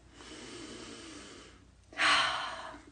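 A deep breath drawn in during a calm self-acceptance exercise, a quiet airy inhale followed by a louder, breathy rush of air near the end, with no talking.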